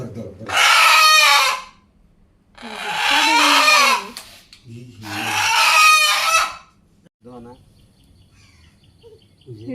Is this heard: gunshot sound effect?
no